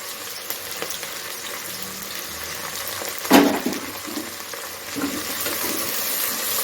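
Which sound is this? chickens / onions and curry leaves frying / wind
onions and curry leaves frying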